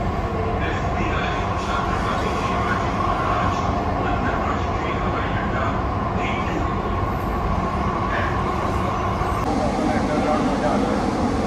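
A Mumbai Metro Line 3 train runs fast through an underground tunnel, giving a loud, constant rumble and roar from inside the car, with occasional voices in the carriage.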